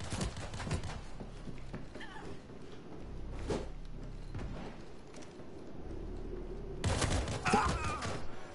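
Heavy weapon gunfire in the zombie shooter World War Z, with bursts of dull, muffled shots scattered amid game noise and a louder crackling flurry near the end, fairly quiet overall.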